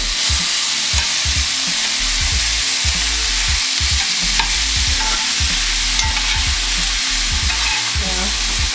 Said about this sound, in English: Cooking this in a little bit of olive oil that I put in there before I let the pan heat up.